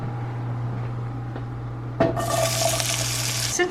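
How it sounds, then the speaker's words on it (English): Chopped bell pepper and a jalapeno drop into a hot pan of butter and burst into a loud, steady sizzle, close up, after a quieter stretch with a low kitchen hum and faint clinks. "I'm going to get these two things sauteing in the butter"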